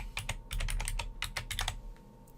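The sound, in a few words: typing on a computer keyboard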